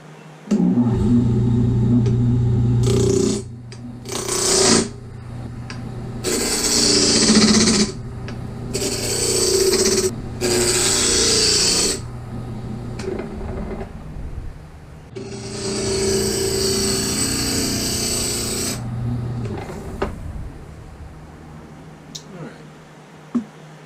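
Roughing gouge cutting a walnut blank spinning on a wood lathe, with loud broadband scraping bursts in several long passes separated by pauses, over a steady low motor hum.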